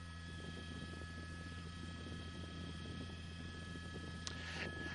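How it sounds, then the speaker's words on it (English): A police helicopter hovers overhead above a Hollywood car chase, its steady rotor drone filling the scene as a continuous, even rumble with no talk. "the helicopter is definitely going to stay overhead"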